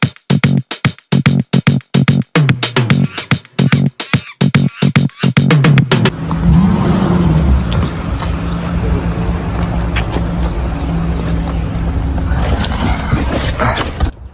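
A car engine revs while the vehicle drifts, a loud sustained roar rising out of choppy earlier sounds and holding steady for several seconds, close and dominant.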